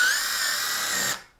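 A Makita 40V XGT impact driver in bolt mode 2 drives into a drilled wooden 4x4, giving a loud, steady high-pitched mechanical whine for about a second that then cuts off abruptly, no talking.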